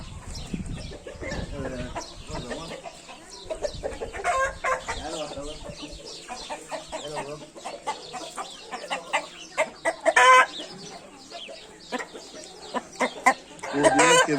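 A rooster crows among chickens clucking steadily at close range, with scattered sharp calls and occasional human voices in the background.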